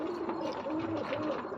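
Fancy Siraji pigeons coo softly at night, low repeated hums over a faint steady background hiss.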